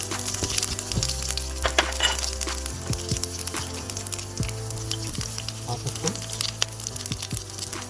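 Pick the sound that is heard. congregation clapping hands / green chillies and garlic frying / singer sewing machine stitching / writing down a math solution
green chillies and garlic frying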